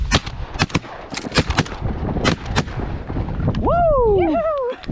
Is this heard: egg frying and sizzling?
no